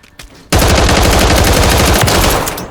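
Rapid automatic gunfire from a weapon on the Warzone III firing range, a loud sustained burst of about two seconds starting abruptly after a brief quiet moment, close and dense.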